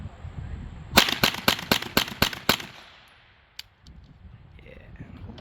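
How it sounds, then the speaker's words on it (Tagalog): A rapid string of about eight sharp gunshots from a Kel-Tec Sub 2000 Gen 3 rifle cracks out in quick succession at an outdoor range, loud and close, followed by a lone click and quiet ambience. "Okay, firing!"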